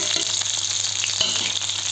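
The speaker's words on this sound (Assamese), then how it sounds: "তেলখিনি গৰম হৈ গ'ল, জলকীয়া আৰু পিঁয়াজখিনি দি দিলোঁ।" Green chillies and chopped onions dropped into hot oil in a home kitchen, crackling and sizzling loudly and steadily with a bright spattering hiss and faint stirring.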